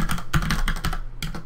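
Fingers type a password on a computer keyboard, a quick run of close, crisp key clicks with a short pause before a final few keystrokes.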